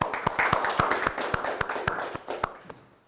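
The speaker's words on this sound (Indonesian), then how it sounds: "Oke, berikan aplaus dulu ya." A classroom of students claps briefly. The hand claps are sharp and regular, fairly loud and close, and they thin out and fade toward the end.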